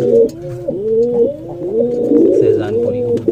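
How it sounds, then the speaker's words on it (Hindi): A Shahjahanpuri pigeon coos close by in a steady series of rolling, repeated coos, with faint background sounds behind it. "सहजानपुरी कबूतर"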